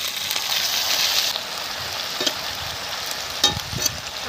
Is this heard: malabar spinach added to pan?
yes